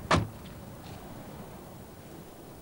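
The pop-up headlights of a Lotus Elan M100 move through their double-action mechanism, giving one sharp, loud mechanical clack at the start, then faint whirring motor noise that fades into quiet.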